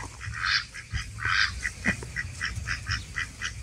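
Geese and ducks in a makeshift outdoor pen honk and quack close by in a rapid series of repeated calls, several birds overlapping at moderate loudness.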